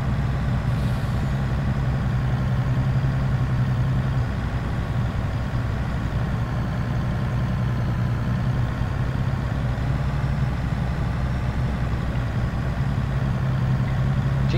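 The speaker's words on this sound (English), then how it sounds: "This is an in-game truck here. You can see it's shifting." An in-game Volvo mining truck engine in a video game, a loud, steady low drone with a constant rumble that holds unbroken throughout, with no talking.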